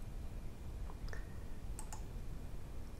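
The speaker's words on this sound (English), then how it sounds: "So I click export" A computer mouse clicks a few times in quick, faint, crisp taps over a quiet room background while exporting a file in GIMP.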